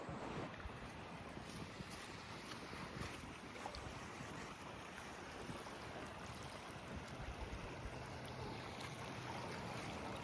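High, fast-running water on the Grand River in Ontario rushes around a kayak, a continuous broadband roar mixed with wind buffeting the microphone, steady and unbroken throughout.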